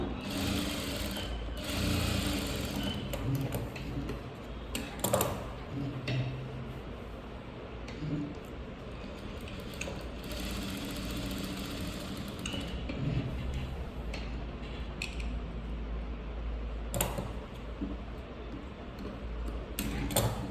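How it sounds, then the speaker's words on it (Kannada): Sewing machine running loose tacking stitches on a blouse, a close, steady mechanical whir with rhythmic ticking broken by brief stops and clicks, over a low background hum. "ನಾನು ಇಲ್ಲಿ ಇದನ್ನು ಲೂಸ್ ಸ್ಟಿಚ್ ಹಾಕ್ಕೊತಾ ಇದ್ದೀನಿ"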